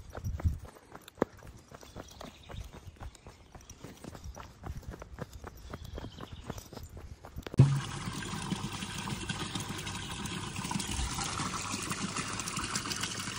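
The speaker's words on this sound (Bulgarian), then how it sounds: "до една чешмичка, в която да си напълним вода" Water splashes and trickles steadily into bottles at a small mountain drinking fountain on Vitosha, following a stretch of footsteps on the trail; the flow is close and constant, with no one talking.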